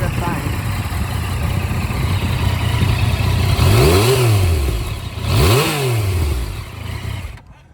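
Yamaha FZ-09 inline-three motorcycle engine idling with a steady rumble, then revving up sharply twice in quick succession, each blip rising and falling, close and loud before cutting off at the end.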